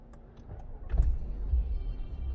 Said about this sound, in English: I'm gonna start the car again